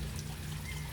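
A waterfall in the Philippines pouring and trickling in a steady, even rush, close and continuous with no voices over it.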